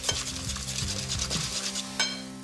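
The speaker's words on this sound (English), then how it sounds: "Whisk up those eggs nicely." Eggs seasoned with salt and fresh ground pepper being whisked in a bowl, a rapid run of light clattering strokes close by with a louder clink near the end, no talk.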